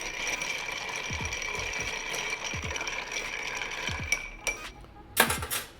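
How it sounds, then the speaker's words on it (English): A bourbon whisky cocktail stirred with ice in a mixing glass gives a steady close-up clinking rattle that carries on throughout, ending with a few sharper knocks. "Stir it up."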